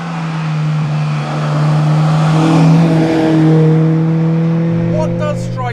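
Honda Accord Euro Type R engine accelerating hard from inside the car, a rising revving tone that climbs through the gears, with someone talking over it.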